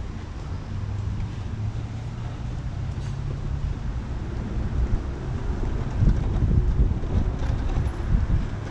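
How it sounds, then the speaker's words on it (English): Wind blows steadily outdoors and buffets the microphone with a constant low roar that swells slightly near the end, with no voices. "wind kicking up a little bit"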